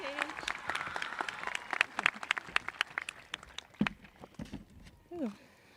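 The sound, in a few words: audience applause at graduation ceremony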